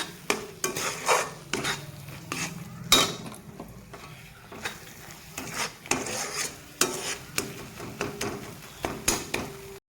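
Potol dolma filling stirred in a pan, with rhythmic scraping and clinking strokes of a spoon against metal in bursts over a low sizzle, close and fairly loud, with no talking.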